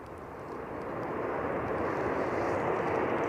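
A Ryanair airliner lands on runway 23 right at Manchester Airport on a stormy day. Its steady jet roar swells and holds, close and loud, with no voices over it.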